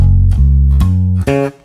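Electric bass plays a riff, four sustained low notes in a row, each clearly plucked, the last one higher, loud and alone.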